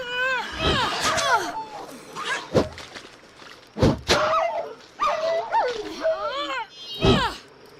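A dog in The Vale video game yips, whimpers and barks in short bursts while fetching a stick, with sharp thunks of the stick landing between calls, close and fairly loud over quiet backing.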